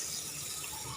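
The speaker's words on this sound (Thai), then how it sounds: "ล้างปลาสะอาด" Steady rush of tap water running into a sink while tilapia is rinsed for grilling, a continuous close hiss with faint splashing and no voices.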